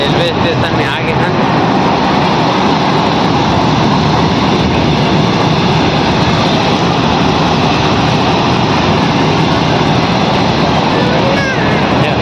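A train at Bhatapara railway station, a loud, continuous broadband rumble and roar of rolling stock and wheels that fills the whole stretch without a break.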